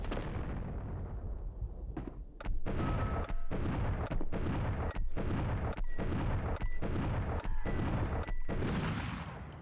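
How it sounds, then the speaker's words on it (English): Pistols fire continuously in the Max Payne 3 video game, a dense run of sharp, loud shots about every half second over a constant rumble of battle noise. "I have been tap firing the pistols this entire time. I can just hold it down."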